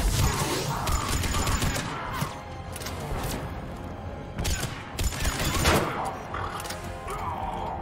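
Grenade blast and bursts of gunfire in the video game Mass Effect 3, dense layered combat noise with sharp cracks and rumbling impacts, loud and continuous across the span.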